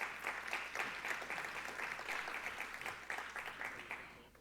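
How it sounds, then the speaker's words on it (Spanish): An audience at a university innovation week event claps for the panelists, a steady wash of applause at moderate distance that trails off slightly at the end. "Aplausos, por favor."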